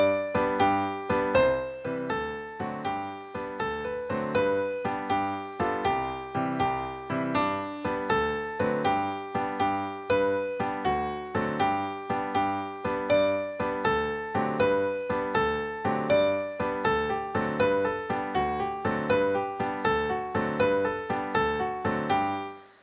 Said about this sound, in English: what you just heard was a clip of music that I created